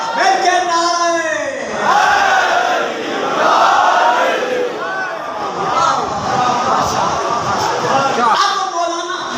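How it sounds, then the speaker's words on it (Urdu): A crowd at a religious gathering chants slogans together in loud, sustained unison swells that rise and fall over several seconds, with scattered shouting in between. "جن دلوں میں علی بستا ہے مل کے نعرے"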